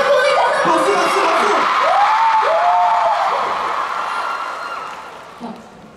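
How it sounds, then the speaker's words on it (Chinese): Fan-meeting crowd for the K-pop group INFINITE in Taiwan cheering and applauding, a loud sustained roar with shrill shouts and whoops that gradually fades, with a voice speaking over it. "掌声鼓励他们"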